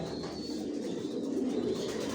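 Racing pigeons of a Janssen line coo softly in their loft, a faint, low murmur of calls under a steady background hum.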